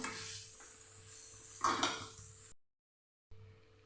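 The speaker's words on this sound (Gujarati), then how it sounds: "સંભારાને થોડી થોડી વાર આપણે હલાવતા રહીશું" A spoon scrapes and clinks against a pan while stirring carrot and chili relish over medium heat, with a faint sizzle, a sharper clatter midway and a brief silent gap near the end.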